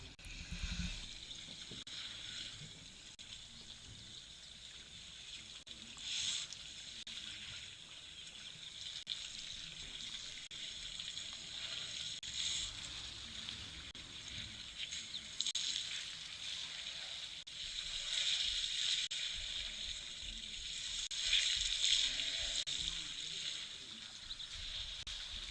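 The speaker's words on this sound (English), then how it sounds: "watch and listen to these elephants slurping up this water" Elephants slurping and drinking at a busy waterhole in Tembe, heard as faint, continuous wet trickling and sloshing with occasional distant bird calls, no one speaking.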